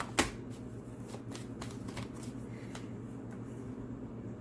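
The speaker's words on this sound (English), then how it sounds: "I'm going to pull one last card." A tarot deck is riffled in one quick, crisp burst at the start, followed by faint soft rustling as a card is drawn, with a quiet hum in the room behind it.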